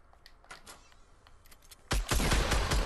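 Bursts of rapid gunfire in a Fortnite squad match, with faint scattered shots at first and then a sudden loud, dense volley that keeps going to the end.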